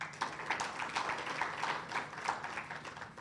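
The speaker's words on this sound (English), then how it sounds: "A round of applause for that, please." Scattered clapping from a memorial lecture audience, rather faint and thin, with individual claps audible in an uneven rhythm rather than a full roar.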